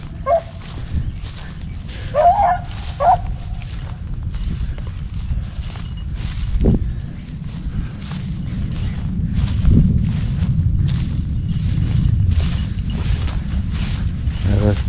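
A five-month-old rabbit dog puppy in spring training with a rabbit gives a few short, high yips early on, then goes quiet under outdoor wind and rustling.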